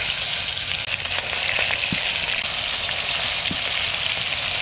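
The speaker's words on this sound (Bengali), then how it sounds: "তেল গরম হয়ে গেছে, মাছগুলো দিয়ে দিচ্ছি।" Fish pieces fry in hot oil that has been lightly salted, giving a steady, close, loud crackling sizzle throughout with a couple of sharper pops.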